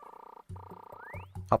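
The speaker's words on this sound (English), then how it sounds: "Frog." A cartoonish frog croak from the video game Animal Crossing: New Leaf, a couple of short, bubbly, tonal game-style croaks with a sliding chirp, clean and close with no talking.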